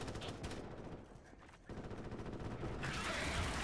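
Rapid automatic fire from the player's weapon in Starship Troopers: Extermination, a dense rattling stream of shots that pauses briefly before resuming louder.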